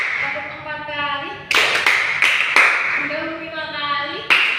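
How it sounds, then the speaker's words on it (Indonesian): A class claps hands in counted rounds in a classroom lesson. A teacher's voice runs throughout while sharp, bright claps land in quick groups, loud and close. "Ayo, tepuk sekali, tepuk 2 kali, tepuk 3 kali, tepuk 4 kali"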